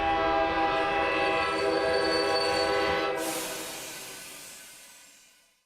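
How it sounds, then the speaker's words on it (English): A video game train horn blares loud and steady, with clattering rail noise beneath it, then cuts off abruptly as the train brakes and the rumble fades away. "The train horn suddenly blares."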